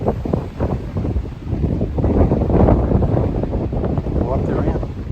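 Strong wind on the Appalachian Trail buffets the microphone in loud, rumbling gusts, with a voice talking underneath the blustery noise.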